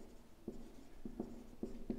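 A pen scratches quietly on paper during a maths lesson, several short faint strokes at an uneven pace over a low background hum, with no talking.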